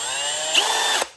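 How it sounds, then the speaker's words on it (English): An old, worn power drill, its chuck spray-painted, whines at high speed for about a second, with a brief rattly rise midway before it cuts off abruptly. "Don't make fun of my drill."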